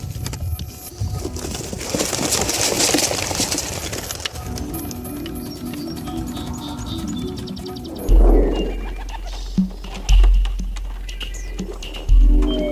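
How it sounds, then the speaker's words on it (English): Homing pigeons released from a box in an open, treeless field burst out in a loud flurry of flapping wings and bird calls, then settle into quieter, scattered thumps and fluttering. "we open the box and let the pigeons go"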